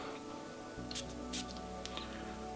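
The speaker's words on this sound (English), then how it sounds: "The sprayer on this is really good, very, very smooth, kind of broad mist." A perfume sample sprayer mists in two short, quiet hissing puffs close by, with a fainter third hiss afterward over a low background hum.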